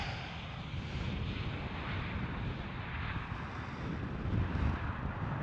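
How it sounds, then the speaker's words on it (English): A KLM Boeing 737 airliner arriving at Amsterdam Schiphol, heard as a steady broadband jet roar from a distance, slightly swelling toward the end, with wind buffeting the microphone. "And that was a 737 of KLM arriving"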